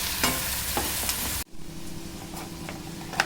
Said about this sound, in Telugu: ఇది గోల్డెన్ బ్రౌన్ వచ్చే వరకు వేయించుకుందాం